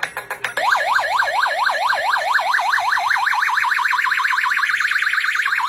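A vehicle's loud electronic music horn warbles a fast, repeating up-and-down tone pattern that gradually speeds up, preceded by a few short beeps.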